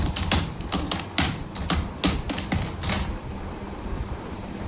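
Rapid keyboard typing plays as a sound effect, a close, uneven run of sharp clicks and taps with brief gaps, heard alone without speech.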